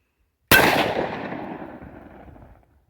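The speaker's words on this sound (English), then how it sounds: "he's going to be taking his shot with a Glock 27" A single gunshot from a Glock 27 pistol, one sharp crack followed by a long fading echo that trails off over about two seconds, heard alone outdoors.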